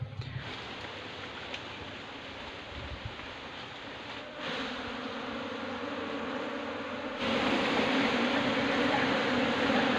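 Honey bees kept for beekeeping buzz in a continuous, close drone that swells and grows louder in two steps, with no voices.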